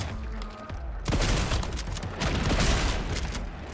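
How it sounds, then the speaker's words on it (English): Shotgun blasts boom in the survival-horror game Resident Evil Requiem: a quiet stretch, then a loud burst of heavy shots at about one second, with dense booming gunfire continuing to the end. "he doesn't even take that many shotgun shots"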